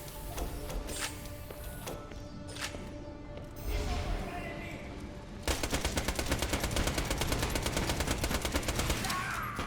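Weapon fire in Borderlands: The Pre-Sequel, a rapid mechanical rattle of automatic shots in a steady fast rhythm that starts midway and continues to the end, fairly quiet, with game sounds and talk before it.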